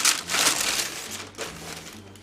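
Crinkly rustling of a stiff paper vinyl record sleeve being handled close up, a steady papery crackle lasting a couple of seconds.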